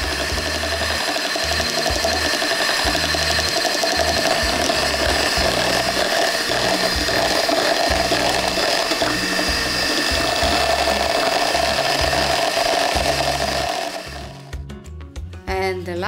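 Electric mixer or blender whirring steadily and loudly as warm cream sauce for Polish chicken-and-rice potrawka is mixed, a continuous motor drone with rattling, then cutting out near the end.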